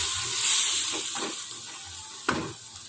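Sliced chili hitting a hot pan for mangut with smoked fish and sea snails, giving a soft, steady hiss and sizzle with a few brief stirring bursts, close and fairly quiet.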